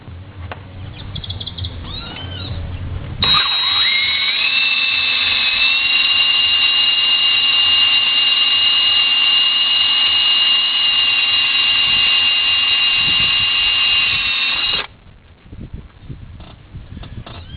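Hardened drill bit boring through a steel bolt head on a Nissan VG33E upper intake plenum: a loud, close, steady high-pitched grinding whine lasting about eleven seconds, with quieter clatter before and after.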